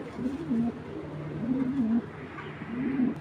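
A pair of black checker racing pigeons cooing nearby, soft low repeated coos in several phrases over faint background noise, with no talking.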